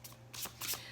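Tarot cards being shuffled by hand in a few quick riffling bursts, close and fairly soft, with a low steady hum underneath and no talking.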